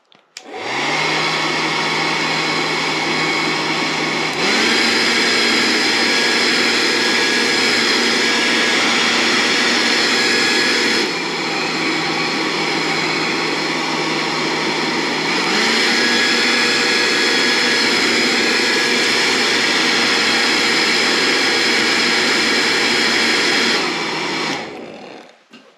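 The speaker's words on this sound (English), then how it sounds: "got our hairdryer, and then we just simply blow dry" A hairdryer runs loud and steady for about 25 seconds, blow drying dyed white CDC feathers in a pot; its pitch shifts slightly a few times as the airflow changes.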